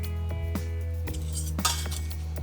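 A utensil beats eggs and sugar in a pan set off the heat, scraping and clinking against the metal in quick, irregular strokes over a steady low hum.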